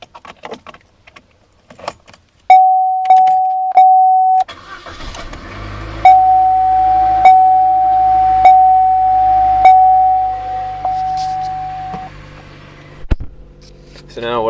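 A parked car's warning chime sounds after the ignition is switched on with a Bluetooth OBD dongle plugged into the port: repeated steady beeps in two bursts, loud and close, with the engine-off cabin otherwise quiet apart from faint clicks and jangling keys.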